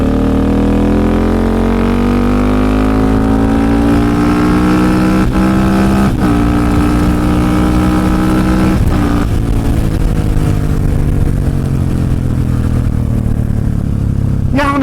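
A Husqvarna 701 motorcycle engine revs up and down at close range, a loud throaty drone that climbs and drops repeatedly, with sharp pitch changes partway through.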